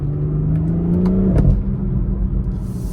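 A tuned BMW M440i's turbocharged engine drones steadily from inside the car on a wet road at night, its pitch rising then dipping as it accelerates and shifts.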